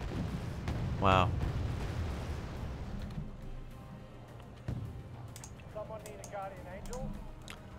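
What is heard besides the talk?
explosion in video game Wargame: AirLand Battle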